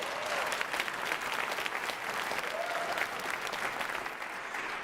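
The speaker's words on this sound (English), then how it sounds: "Yeah, let's clap." Sustained applause from a crowd of about four hundred people gathered in a room for a community justice meeting, a dense, steady wash of clapping throughout that eases slightly near the end.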